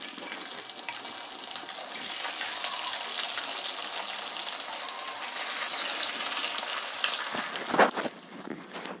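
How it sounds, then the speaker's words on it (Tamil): Pathiri frying in hot oil, a steady broad sizzle and crackle running throughout, with a brief burst of louder clatter near the end as pieces are stirred or lifted out. "அதே மாதிரி நம்ம பாக்கி உள்ளதையும் பொரிச்சு எடுத்துக்கலாம்."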